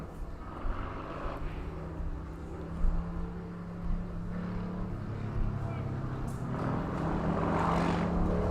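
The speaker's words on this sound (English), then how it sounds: "Noisy motorbikes going around the road" Noisy motorbikes running along a road beside a cricket ground, a continuous engine drone with rising and falling revs that swells toward the end, heard from a middle distance.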